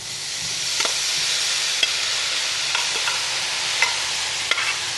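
Vegetables fry in a pan in a French kitchen with a steady, loud, close sizzle and hiss, broken by a few faint clicks of stirring, with no talking.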